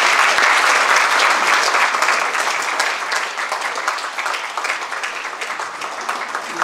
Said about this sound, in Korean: 그리고 또 전달할 때 박수로 축하해 주시기 바랍니다.